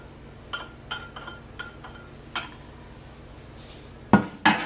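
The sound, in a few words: mixing gelatin into sweetened French pressed coffee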